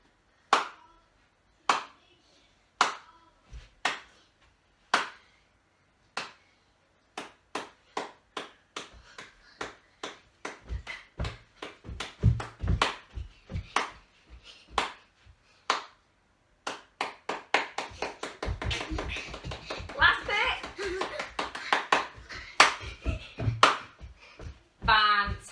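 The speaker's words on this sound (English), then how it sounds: "Listen to the claps." Single sharp hand claps in a quiet room start slow and evenly spaced, then steadily speed up into a rapid, dense run, with thumps and shuffling of children moving along to the beat during a PE lesson.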